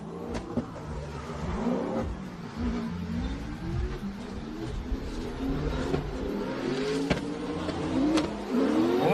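Drift cars rev and accelerate at the start of a competition run at a Croatian drift event, their engines rising and falling steadily at middle distance, with sharp squeaks and mechanical noises over the roar.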